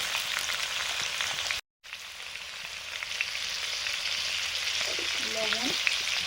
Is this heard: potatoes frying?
yes